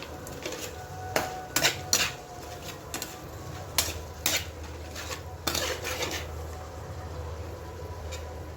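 A spatula stirs chickpeas, grated coconut and potato frying together in a pan, with close, irregular metallic scrapes and clanks over a low, steady background hum.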